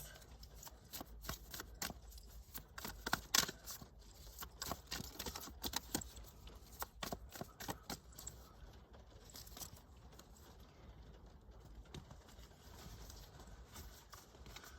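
Soft, rapid shuffling of tarot cards against a leg, a quiet irregular patter of light taps that continues throughout.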